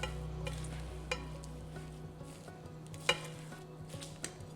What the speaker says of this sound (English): just to fold in your last ingredients, not to overmix your Irish soda bread batter